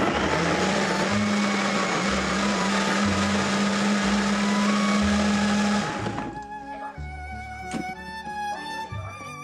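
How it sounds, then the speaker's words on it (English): Blender whirring through fruit, vegetables, ginger, dry mint and water, a loud steady motor drone for about six seconds that cuts off abruptly, leaving a quieter rattle and clatter afterward. "Blend for 20 to 30 seconds until smooth."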